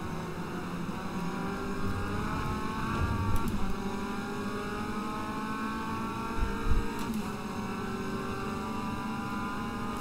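MCR Sports 2000, a light winged race car in the Automobilista racing game, on track at Oulton: a loud, continuous high-revving engine whine with shifting pitch and brief bursts as it accelerates, heard alone without talk.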